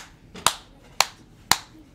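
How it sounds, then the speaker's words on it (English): A six-year-old girl playing a rhythm game from a homeschool music class claps three sharp, evenly spaced times about half a second apart, crisp and close, with quiet in between. "Mommy, the clapping was like a rhythm"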